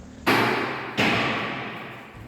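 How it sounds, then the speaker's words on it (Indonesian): A wooden chair topples over with a loud thud, then a second heavy knock follows about a second later, each ringing out and fading in an otherwise quiet room. "kursi yang ada di sudut belakang terjatuh hingga menimbulkan suara dentuman yang keras"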